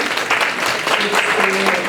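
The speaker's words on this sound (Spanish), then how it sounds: "Le damos un fuerte aplauso por su participación." A room of people gives a round of applause for a participant being handed a certificate of recognition at a talk. The dense, even clapping lasts throughout, with faint voices mixed in.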